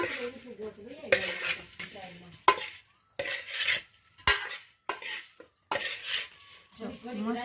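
Spices for dudhi dhokla are tempered in hot oil, with bursts of sizzling and crackling broken up by repeated metallic scrapes and clinks of a spoon against the pan, loud and close with short quiet pauses between.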